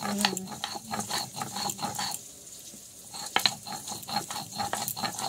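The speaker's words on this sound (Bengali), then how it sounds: "একটু কাঁচা লঙ্কা দিলাম, তেলের উপরেই দিয়ে দিলাম" Green chillies hit hot oil and fry, a close crackling sizzle with rhythmic stirring and utensil scrapes that pause briefly before resuming.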